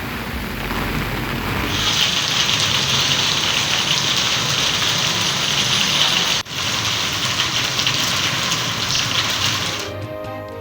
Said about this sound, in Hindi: जिला लसवेला में मूसलाधार बारिश।